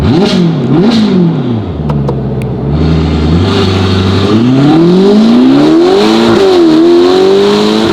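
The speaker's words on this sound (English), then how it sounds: "this car has got a Novitec Sports exhaust system, and it is the cream of this Roma" A Ferrari Roma Spider fitted with a Novitec sports exhaust revs hard in loud, close repeated blips that drop to an idle burble and then climb again into a long, rising roar.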